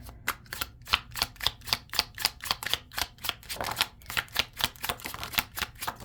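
Tarot cards are shuffled by hand in a quick, steady run of crisp riffling flicks, close and clear with no talking.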